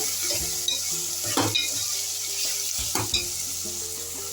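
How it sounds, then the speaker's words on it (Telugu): Tomato frying with salt and turmeric in a pan, producing a continuous close sizzle with a few clinks and scrapes of stirring over it. "కొంచెం వేసి ఫ్రై చేస్తాం"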